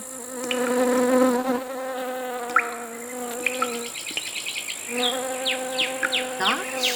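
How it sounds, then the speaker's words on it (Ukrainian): Steady buzzing, droning insect tones with rising whistly chirps layered over them, continuous and fairly close, without voices. "А так цвіркун радіє закінченню дощу."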